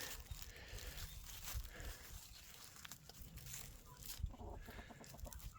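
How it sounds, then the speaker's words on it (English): Chickens clucking and chattering nearby on a homestead while being given scratch feed, irregular calls over a low, noisy outdoor background, fairly faint overall. "gave the chickens and turkeys some scratch"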